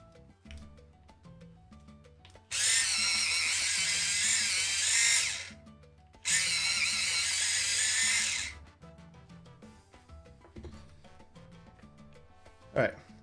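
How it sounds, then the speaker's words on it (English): A colored pencil being sharpened in a sharpener, in two loud grinding bursts of about two and four seconds with a short pause between, over quiet background sounds. "You'll hear the sharpener."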